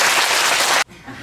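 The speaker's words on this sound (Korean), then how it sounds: "경례 박수" Audience applause at a Buddhist temple ceremony marking an anniversary, a dense burst of clapping that cuts off abruptly after under a second, leaving quiet room tone.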